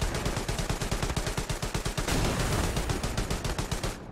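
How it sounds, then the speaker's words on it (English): Gunfire from the video game Hell Let Loose: a steady stream of rapid automatic shots with a regular rhythm, fairly loud and sustained for about four seconds, with no voices over it. "He just fired."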